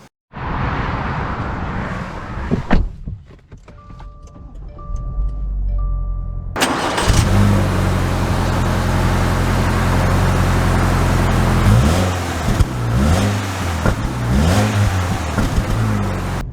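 A 2022 Subaru Crosstrek Limited starts up amid interior chimes, its engine catching with a loud rise before settling and then pulling away, the revs climbing and falling through several gear changes.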